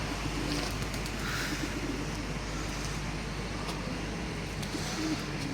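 Soft, low bird cooing over steady outdoor background noise, with faint chirps and a distant car passing.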